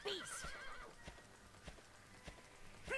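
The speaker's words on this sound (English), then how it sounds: "my horse isn't accustomed to being ridden" A horse in the video game Dragon Quest 8 gives a wavering neigh over steady clip-clopping hooves, the hoofbeats close and evenly spaced, with a second whinny at the end.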